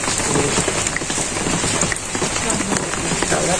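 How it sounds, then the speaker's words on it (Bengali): Steady rain pours down in a village, a dense close patter of drops on surfaces that runs without a break and masks everything else. "এই যে আবার বৃষ্টি গেছে গা"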